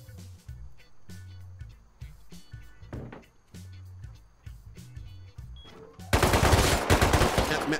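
Rapid gunfire bursts from the online survival game Rust, a string of sharp shots in short rhythmic volleys, then a dense, loud burst of fire near the end, with no talk over it.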